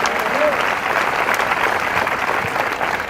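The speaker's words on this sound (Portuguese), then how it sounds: "Aplauda ao Senhor." Applause from a church congregation fills the space, a loud, even roar of clapping with a voice faintly present beneath it.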